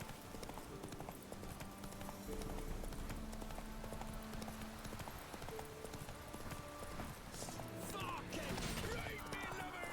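Horse hooves clip-clop steadily in The Witcher 3, a game horse trotting along with a continuous rhythmic patter under game ambience and music, with some clatter near the end.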